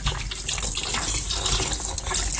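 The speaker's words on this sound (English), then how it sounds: "I'll go above and beyond and wash the wheels off." Water from a tap or hose runs in a steady, loud gush while the wheels of a 2002 Craftsman lawnmower with a Tecumseh 4.25 HP engine are washed.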